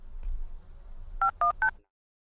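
Three quick telephone keypad tones dialed to call the police in the horror video game Bloodwash, clear and close, evenly spaced over a faint low background hum, then silence.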